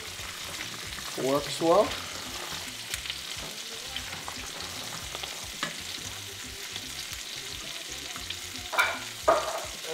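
Risotto sizzling in a pan as dry Italian wine is added, a steady crackling fry with bursts of louder hissing and stirring scrapes, while a voice speaks briefly.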